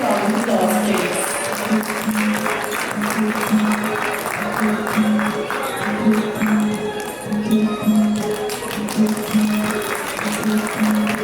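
An audience applauds steadily at a Himalaya Airlines 10th anniversary celebration, sustained clapping from a crowd lasting throughout with a constant low tone underneath.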